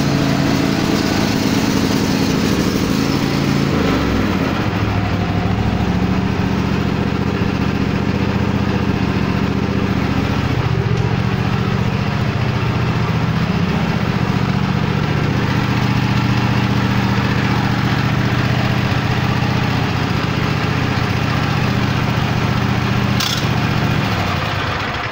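A Cub Cadet XT1 riding lawnmower engine turns over near the start and then runs steadily and loudly for the rest of the clip, a continuous close-up drone with no talking.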